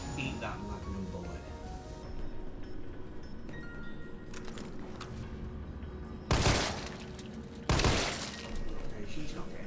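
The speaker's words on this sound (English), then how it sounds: "Eat that magnum bullet." Magnum revolver fire in Resident Evil 3 Remake: two loud, sharp gunshots a little over a second apart, rising above a dense game soundscape with a speaking voice in the background.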